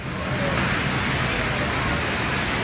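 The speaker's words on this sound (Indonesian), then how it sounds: "Ini sekarang lagi hujan deras Ki" Heavy rain pours as a dense, steady hiss of broadband noise, close and unbroken throughout.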